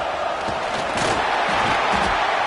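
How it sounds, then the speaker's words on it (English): A stadium crowd roars early in a Penn State versus Alabama college football playoff game. The roar is dense and steady, with no clear breaks. "Listen to the crowd energy here in the early going."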